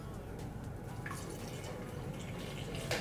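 Warm water being poured into a bowl for homemade focaccia dough, a steady close liquid stream with small splashes and drips, running alone for about three seconds.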